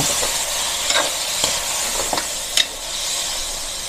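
Pancit canton noodles with soy sauce are stirred in a hot pan, a steady sizzle and hiss under a few light scraping clinks of the utensil, close by.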